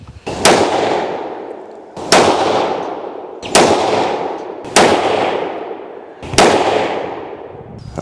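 Five sharp rifle shots of handloaded 55 grain Sierra Game King rounds with AR-2208 powder crack out at even intervals of roughly one and a half seconds. Each report is loud and close, with a long decaying echo behind it.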